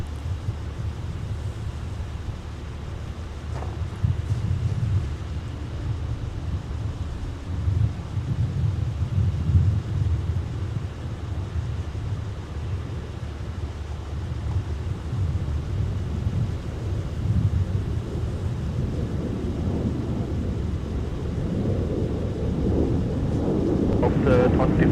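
Delta airliner arriving from Las Vegas on short final to runway 30 left at Minneapolis–St. Paul airport in winter, a low continuous jet rumble that swells gradually, mixed with steady wind noise on the microphone.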